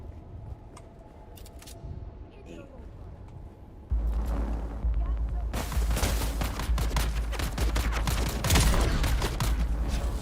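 Gunfire in Dune Awakening erupts after a quiet opening, with rapid loud shots and a heavy continuous barrage filling the second half, close and dominant.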